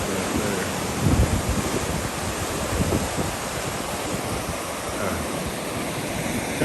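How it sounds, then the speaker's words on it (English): Steady wind and rushing water around a boat moving along the Mississippi River, a continuous loud wash of noise with low buffeting rumbles and no voices. "you don't hear nothing but the wind and running through the water"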